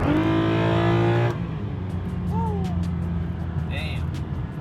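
A BMW E92 M3 with the S65 V8 starts and rises to a loud, rich idle rev, then settles into a steady rumble while a voice briefly speaks over it.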